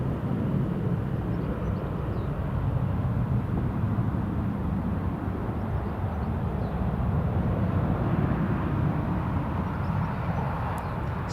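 Supermarine Spitfire RF 103 flying near Newcastle International Airport, a steady loud broadband engine drone holding at constant level throughout, with no talk over it.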